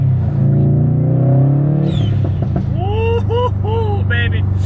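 Subaru WRX STI engine idling with a deep, steady rumble that swells into a few rising revs, close and loud, with a brief whoop of a voice at the start.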